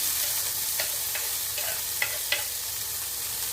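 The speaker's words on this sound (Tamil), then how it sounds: "மோர் மிளகாய் வெங்காயம் வதக்கல்" Onions and buttermilk chillies sizzle in a hot pan while a utensil stirs and scrapes several times, close up with no talking.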